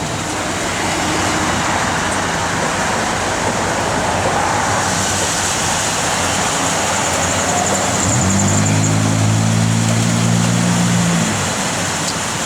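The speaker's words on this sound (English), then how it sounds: "Blower motor does work" A 1966 Chevrolet Chevelle SS blower motor runs as a steady, loud broadband whoosh of rushing air that fills the cabin, with a low hum that swells briefly near the end.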